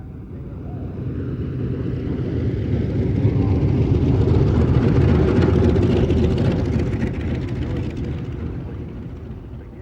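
A Lockheed C-121 piston airliner passes over an air show, its deep propeller drone swelling to a peak midway and fading again, heard from a distance through some wind noise.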